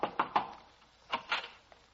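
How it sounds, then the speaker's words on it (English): Knuckles rap on a door in two quick groups of three close, sharp knocks, the second group a little softer, with no voices. "I'll knock on the door."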